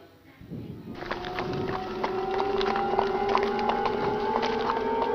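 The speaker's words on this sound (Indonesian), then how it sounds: "terdengarlah suara langkah kaki delman" Hoofbeats of a horse-drawn delman carriage clop in a steady rhythm under a sustained eerie tonal drone, added as a horror-story sound effect.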